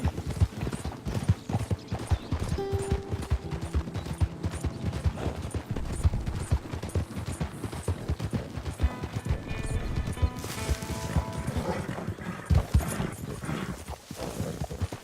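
Rapid, regular clip-clop of horse hooves trotting continuously in the video game Red Dead Redemption 2, with a brief whinny and some clattering mechanical sounds in the background.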